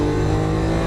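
A Lamborghini Aventador's engine pulls hard on a Las Vegas racetrack in a brief, loud, steady drone with no break in intensity.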